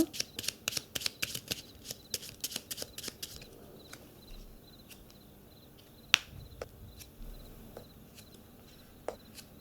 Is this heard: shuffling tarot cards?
yes